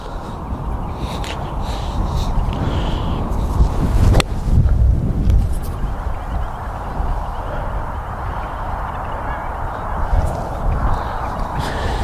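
Strong wind buffets the microphone at a golf driving range, a constant rough roar, with a brief sharp thump partway through and someone talking over it.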